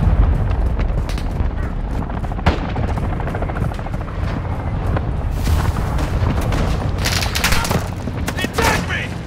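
Mortar strikes in a video game pound down amid heavy gunfire, loud booming blasts and sharp cracks piling on one another in a dense, continuous barrage.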